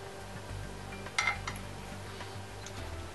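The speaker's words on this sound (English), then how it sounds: "Be sure to line up all 4 holes and insert your bolts" Metal bolts clink into the mounting holes of a Madjax brush guard on a Club Car DS golf cart, a few short faint metallic taps and a brief clatter, quiet and close, with no talking.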